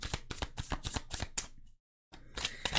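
Tarot cards riffle-shuffled in quick repeated bursts, close and crisp, with a brief silent pause before the shuffling resumes.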